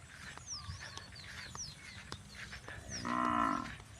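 Cattle grazing on a grass pasture plot on a farm give one loud, drawn-out moo near the end, with birds chirping and a steady outdoor murmur throughout.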